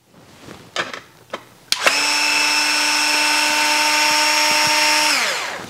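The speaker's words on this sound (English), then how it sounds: "we'll insert the 5/64 and we'll remove the fasteners from the battery cover" Power hex driver with a 5/64 bit removing battery cover fasteners on an RC car chassis: a few light clicks of handling, then a steady high motor whine for about three seconds that winds down as it stops.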